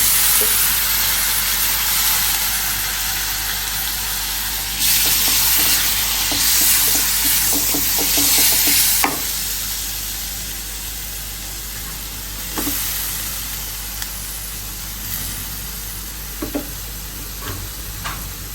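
Curry with spices sautéing in a pan, a steady loud sizzle with stirring scrapes and occasional clicks of the spoon against the pan, continuous throughout with no talk.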